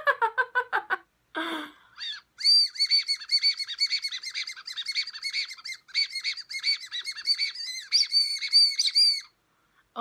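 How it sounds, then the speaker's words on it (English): Shrill, chirpy whistling from a Japanese whistle candy being blown, in rapid warbling bursts, bird-like and close, with short pauses between runs of trilled notes. "Apparently you can make a whistle sound."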